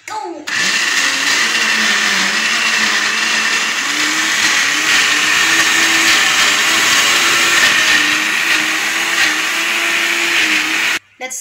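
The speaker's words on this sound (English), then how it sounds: "Then we'll blend it for you." A blender grinding peanuts into homemade peanut butter, a loud steady motor whine running continuously for about ten seconds with a wavering pitch, cutting off briefly near the end.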